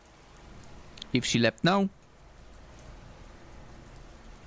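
Steady rain falls in a video game, a soft continuous hiss running throughout, briefly broken by a short spoken line near the middle.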